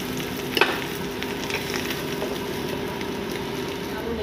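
Potatoes deep frying in oil in a kadai, a steady close sizzle and bubbling throughout with a brief clatter near the start and no talk.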